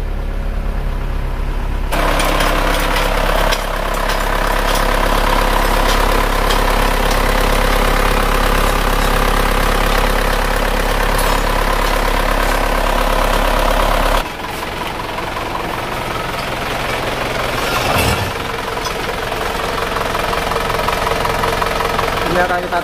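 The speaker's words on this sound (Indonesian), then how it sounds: "Ini mesinnya sudah hidup" A freshly rebuilt Isuzu Panther diesel engine idles at a raised speed to warm up, a loud steady knocking rumble that continues throughout with a brief shift partway, close up, with voices talking over it.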